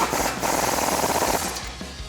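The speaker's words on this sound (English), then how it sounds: "So we'll grab our impact and 22mm socket and start with these 2." An impact wrench with a 22mm socket rattles in rapid hammering bursts while tightening CV axle bolts on a 2022-2025 Toyota Tundra with a ReadyLIFT kit, loud and close for about two seconds with no talking.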